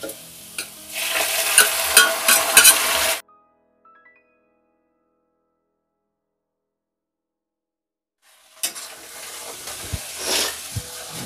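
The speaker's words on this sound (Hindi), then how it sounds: "देखिए दोस्तों आटा भी थोड़ा बहुत फ्राई हो चुका है" Loud sizzling and stirring of flour paste frying in a hot pan, cut off by a silent pause, then the frying and scraping resume.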